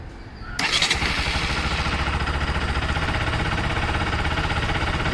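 A Bajaj Pulsar RS200 motorcycle cranks and fires with a sudden catch, then settles into a steady, close, even-throbbing idle that runs on alone.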